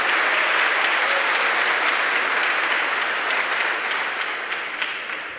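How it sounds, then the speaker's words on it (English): An audience at a startup presentation gives a round of applause, dense and steady at first and tapering gradually toward the end. "Give him a round of applause."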